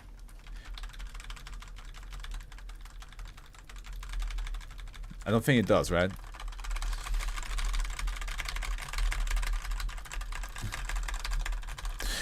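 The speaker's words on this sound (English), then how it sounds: "It's like I'm typing the SCP myself." Quick clicking keystrokes on a computer keyboard, steady and fairly close, with a person talking briefly in the middle.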